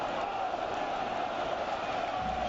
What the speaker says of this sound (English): And crowd's yelling go